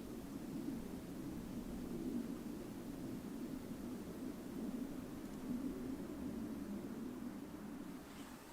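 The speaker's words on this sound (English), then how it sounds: "Third airplane in the boundary waters." A distant airplane passes high over the Boundary Waters wilderness, heard as a faint, steady low drone with no other sounds.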